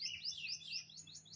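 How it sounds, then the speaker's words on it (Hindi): Birds chirp outdoors during a morning walk, a clear run of repeated bright, quick tweets in a steady rhythm, close and distinct, with no talking over them. "नेचर की जो एक आवाज़ है, चिड़ियों की चहचहाहट है, वो आप लोग सुन पा रहे हैं।"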